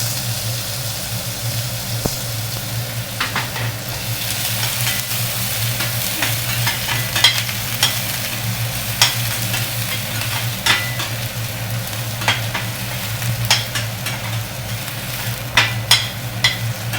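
Sliced onion and garlic frying in a pan for Gobi Manchurian, a steady close sizzle under a low hum, with scattered scraping clicks of a spoon stirring, no voice.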